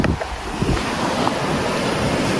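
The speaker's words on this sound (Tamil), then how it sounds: "கடல் வருது பாருங்க." Sea waves roll onto a beach at night in a loud, continuous roar, with gusts of wind hitting the microphone. No voices are heard.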